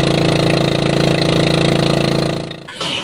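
A fishing boat's engine runs steadily, a loud close mechanical drone with a rapid throbbing pulse that drops away near the end.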